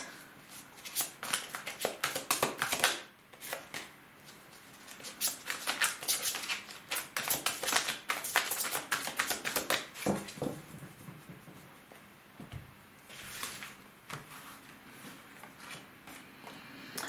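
Tarot cards are shuffled and drawn in soft, irregular bursts of papery flicks and slides, close and quiet, with brief pauses between handfuls.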